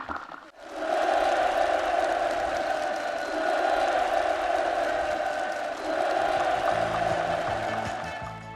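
Participants at a housewarming gathering for new farm village homes applauding enthusiastically, a loud, sustained mix of clapping and crowd cheering with a strong tonal band running through it, steady for several seconds.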